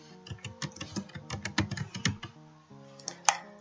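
Typing on a computer keyboard into a search box, a quick run of close key clicks with a short pause, then a few more taps and one sharper key press, over a faint steady hum.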